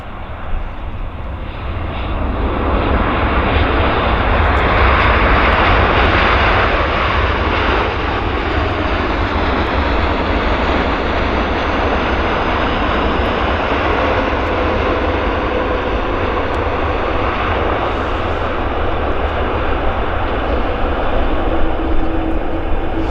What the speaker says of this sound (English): That was a nice landing with JAL, actually. Very nice landing.